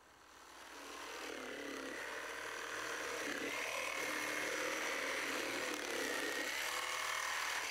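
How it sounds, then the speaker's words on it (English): A jigsaw cutting layered wood pieces runs as a steady, close buzzing rasp that starts softly and builds within the first second, then holds at an even level with no voices. "Next, I cut the layers out with my jigsaw."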